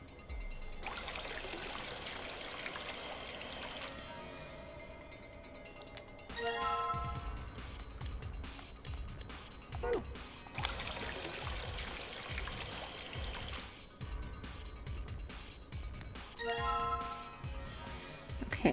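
Water pours into a container in the video game Virtue's Last Reward, two bursts of steady pouring with a trickling stream and light chiming tones, fairly loud with no talk over it.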